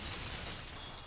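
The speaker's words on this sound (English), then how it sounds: "I held the hammer in my hand, faced the glass in front of me, and threw it as hard as I could!" Glass shatters in the Danganronpa V3 game after a hammer is thrown into it, a dense, loud burst of breaking, crackling noise filling the whole moment with no pause.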